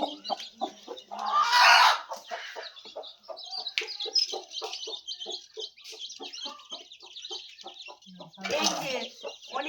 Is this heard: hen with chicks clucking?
yes